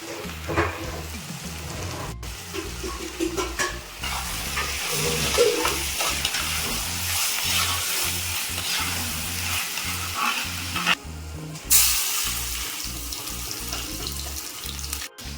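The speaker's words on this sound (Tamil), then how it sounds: "வெங்காயம் தக்காளி நல்லா வதங்கணும்" Onions and tomatoes sauté in a pan for a prawn curry, with a steady, loud sizzle broken by repeated stirring scrapes and clatters.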